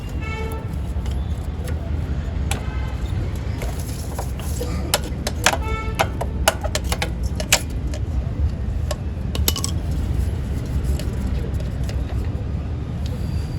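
A Hero HF Deluxe motorcycle engine running close up with heavy tappet noise: sharp metallic ticks and clicks scattered over a steady, dense engine rumble.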